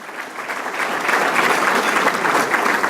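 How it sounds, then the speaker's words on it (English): An audience claps for a guest introduced at a City of Chicago Department of Buildings event, a steady, dense round of applause that swells slightly and holds without any talk over it. "So let's give Mike Monaco a round of applause"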